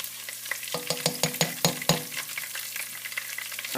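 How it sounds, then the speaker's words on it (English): Garlic toasts in a hot pan with a steady close sizzle, broken by a quick run of clicking scrapes as it is stirred. "right now you're just toasting that garlic"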